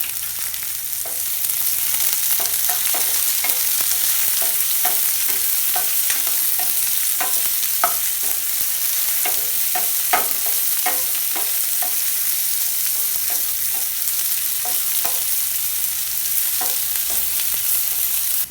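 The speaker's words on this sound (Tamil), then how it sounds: "இப்போ வெங்காயம் பச்சை மிளகாய் கொஞ்சம் வதங்கிடுச்சு" Sliced onions and green chilies sautéing in a pan for tomato rice, with a spatula scraping and tossing them in regular strokes over a constant close sizzle, no voices.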